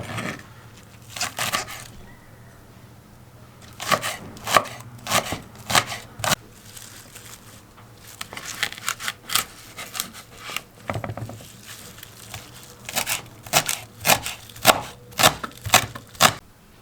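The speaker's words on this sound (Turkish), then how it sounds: "Soğanlarım çok küçük olduğu için 5-6 tane doğradım." A knife chops onions on a board in quick rhythmic bursts of sharp cuts, pausing briefly between runs, close and clear.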